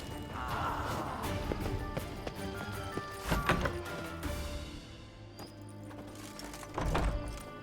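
Horse hooves in The Witcher 3 during a derby brawl, uneven thudding clip-clops with a few sharp impacts and a neigh, moderately quiet under game ambience.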